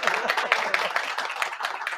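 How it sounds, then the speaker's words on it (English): Applause rises for a female parliamentarian guest: a modest round of rhythmic clapping, somewhat sparse and uneven, with voices faintly in the mix. "I think that deserves another round of applause"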